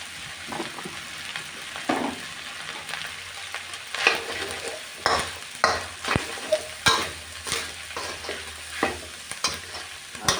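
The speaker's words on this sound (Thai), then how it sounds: "ผัดให้ข้าวโพดกับแครอท สุกนิดหนึ่งก่อนนะคะ" Corn and carrot stir-fried with fermented pork and egg for fried rice, with repeated scraping spatula strokes over a steady close sizzle, strokes coming in an irregular rhythm and growing busier partway through.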